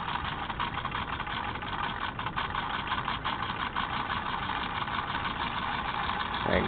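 A small solenoid motor with a flywheel runs at reduced voltage, giving a steady, fast buzzing drone of rapid repeated clicks that holds an even level throughout, close by with no talking.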